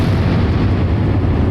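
Heavy gunship cannon fire from an AC-130 pounding tanks in the naval combat game Sea Power, a dense, continuous rumbling barrage of booms with no talk over it.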